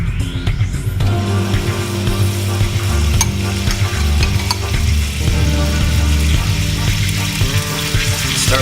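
Ground meat hits a hot gas-heated pan for shepherd's pie, a loud, steady sizzle and crackle running continuously, with a low background hum under the frying.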